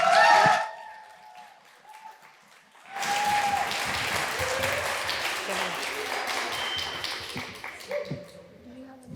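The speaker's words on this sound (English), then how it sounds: "a very heartfelt, loving, caring, warm round of applause for the students" A warm round of applause for students at a new university's founding event swells after a spoken opening and holds as dense, sustained clapping from a sizable audience, with speech briefly before it.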